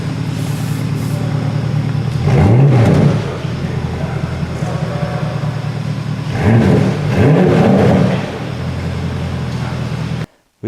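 A 2017 second-generation Porsche Panamera Turbo engine revs twice through its exhaust, each rise swelling loud and close before settling back to a steady idle rumble, then cutting off.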